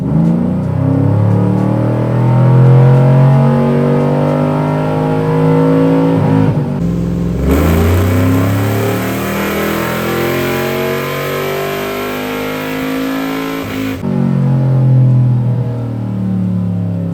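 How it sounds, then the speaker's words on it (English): A cammed LS3 V8 in a Chevy Trailblazer SS revs hard on a dyno in second gear, a loud, steady engine roar climbing in pitch with a brief dip midway before pulling again, with no talking. "dyno's ready to rip. I'm gonna put this thing down in second. Let's do a rip."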